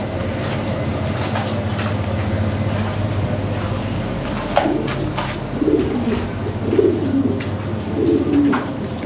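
Lahori Sirazi pigeons coo in soft, repeated low phrases during the second half, over a steady background hum with occasional sharp clicks.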